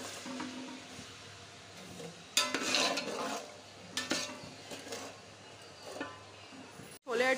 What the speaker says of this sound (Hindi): रेड चिली पाउडर, और इसको अच्छे से हम भून लेंगे मसाले को